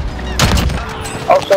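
Gunfire in a multiplayer sniper shooter video game: a burst of shots at about half a second, loud and close, followed by lighter sharp pops, with voices under it.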